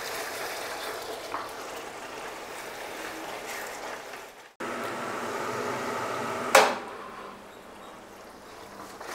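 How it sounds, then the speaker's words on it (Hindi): Chop masala fries in a pan with a steady, close sizzle, broken by a brief pause and then a sharp stirring scrape. "आप देख पा रहे हो कि हमारा मसाला, चौ मसाला है जो, वो अच्छी तरह से भुज रहा है"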